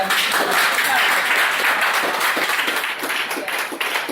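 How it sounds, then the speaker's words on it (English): Graduates clapping for themselves at a business graduation ceremony, a loud, close burst of many hands that stays dense before easing slightly toward the end. "Clap on yourselves."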